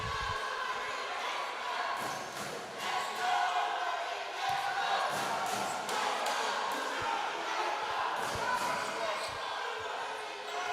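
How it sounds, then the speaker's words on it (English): Basketball fans cheer inside an auditorium during a community league conference final: a continuous, loud roar of crowd noise fills the hall with scattered shouts and thumps, while a commentator talks over it. "we are hearing the Wolverines fans cheering inside the auditorium"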